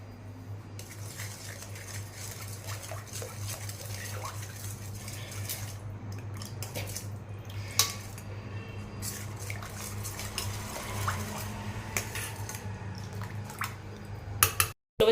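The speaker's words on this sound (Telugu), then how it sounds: "ఒక పావు టీ స్పూన్ అంత పసుపు అలాగే ఒక అర టీ స్పూన్ అంత కారం ఇవి వేసి ఒకసారి కలుపుకుందాం" A spoon stirs turmeric and chili powder into horse gram rasam in a metal pot, giving a steady run of soft scraping and light clinking that goes on for some fifteen seconds, close by with no voices.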